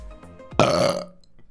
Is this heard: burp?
yes